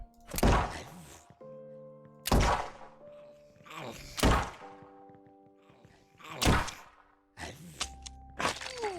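Five sharp gunshots crack out one by one at irregular intervals in a zombie defense video game, each a loud close report with a short echoing tail, over faint game music tones.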